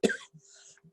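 A single sharp cough from someone who inhaled cheese curds, loud at the start, followed by a few faint throat sounds.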